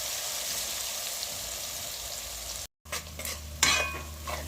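Jamaican curry corned beef stirred with green seasoning in a pot, a dense sizzle and scraping that cuts out briefly, then resumes with sharper clatters of the spoon near the end.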